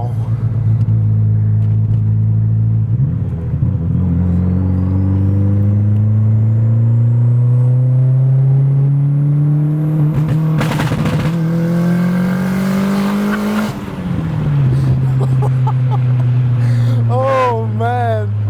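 A Volvo S60R, started after four years sitting, revs hard with its turbo boost building, a loud, deep engine note rising and falling in long pulls while tires spin, with a person speaking over it.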